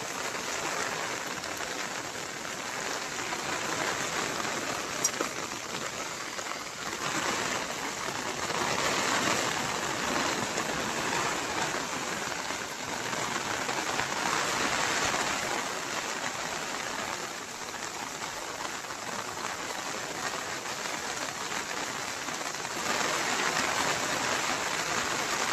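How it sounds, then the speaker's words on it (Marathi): Heavy monsoon rain pours down steadily near a coastal creek in Konkan, a dense, even hiss of drops drumming on surfaces that continues throughout with no talk. "पाऊस पण लागतोय भरपूर, हे बघा."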